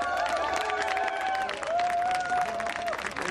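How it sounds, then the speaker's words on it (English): Enthusiastic applause from a street crowd greeting the arrival of a Liberal Democrat campaign bus, steady dense clapping with cheers and a sustained whistle-like tone riding over it. "it was greeted with enthusiastic, if not altogether spontaneous, applause."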